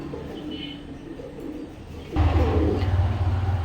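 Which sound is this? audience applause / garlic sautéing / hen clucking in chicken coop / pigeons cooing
pigeons cooing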